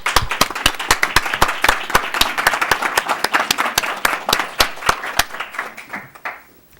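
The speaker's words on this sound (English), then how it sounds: "Let's give them a round of applause." An audience at a town council candidate forum applauds with sharp, close, rhythmic clapping that goes on for several seconds before thinning out, with little talk over it.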